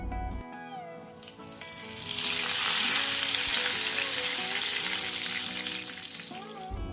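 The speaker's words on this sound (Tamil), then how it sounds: "இதோட சேர்த்து பெருங்காயப்பொடி கொஞ்சம், கருவேப்பிலையும் ஆட் பண்ணி நல்லா பொரிய விட்டுக்கலாம்." Mustard seeds, fenugreek, dried chili, asafoetida and curry leaves frying in hot oil, a loud crackling sizzle that swells and holds, with someone speaking over it.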